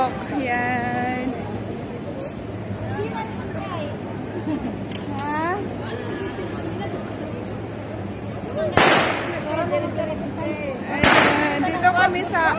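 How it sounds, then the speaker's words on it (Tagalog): Firecrackers go off in a busy street in Salmiya, two sharp bangs standing out over constant crowd babble and nearby talk. "Paputok na sila ng paputok."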